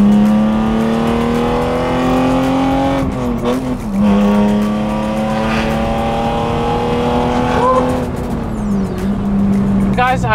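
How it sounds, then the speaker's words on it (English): A BMW E36 with an M52 B28 straight-six and straight pipes revs hard and holds a loud, steady drone at a spin event, with tires squealing and a brief rev dip near the end. "pure M52 B28 straight pipe sounds"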